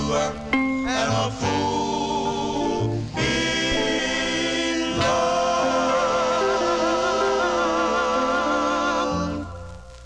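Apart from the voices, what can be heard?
1956 doo-wop record on Apollo Records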